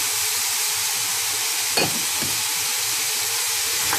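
Vegetables, soya, mint, coriander, paneer and cashew nuts sauté in a pan for a restaurant-style vegetable biryani, giving a steady close sizzle with a couple of brief stirring scrapes partway through.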